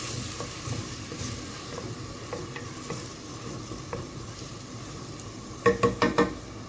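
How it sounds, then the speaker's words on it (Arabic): Onion sizzles in oil in a cooking pot as paella is prepared, a steady close frying hiss with light scrapes of stirring, then a quick run of several sharp metallic clinks of a utensil on the pot near the end. "درت البصله هي الاولى كتشحر"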